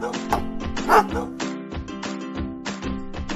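A dog barks and yips in a quick run of short, sharp calls, loud and close over a steady musical backing.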